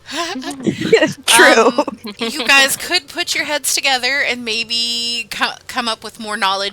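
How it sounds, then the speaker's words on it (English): A sharp sneeze bursts out early amid lively conversation at a tabletop role-playing game session, with people talking over and after it. "I'm sorry, I sneezed in your ears."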